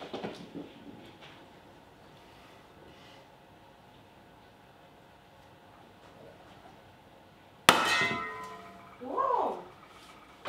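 A Prince Rupert's drop of toughened glass explodes underwater with one sudden, sharp, loud burst breaking a quiet background, followed moments later by a short vocal exclamation.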